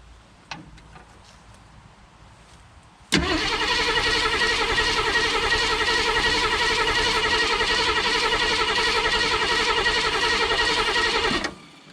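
A dormant 1969 AMC Rebel engine cranks and catches after a few faint clicks, then runs with a loud, steady roar for about eight seconds before cutting off abruptly.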